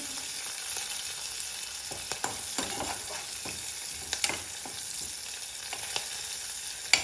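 Steady crackling sizzle of spices tempering in hot oil, with occasional sharper pops and a brief stir near the end, no voices.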